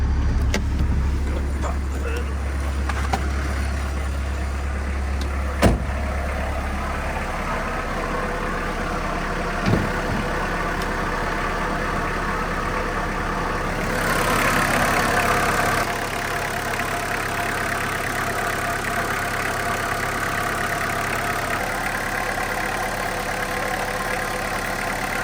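A 1991 VW Jetta GL diesel engine idles with a steady low drone and faint rhythmic clatter, a couple of sharp clicks heard along the way, with the tone shifting slightly partway through.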